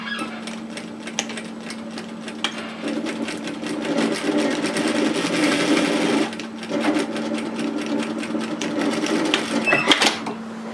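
Sewing machine stitching fabric panels of a reusable four-cup coffee holder bag, a close steady rapid needle patter with a constant motor hum, pausing briefly midway before resuming and ending with a few clicks.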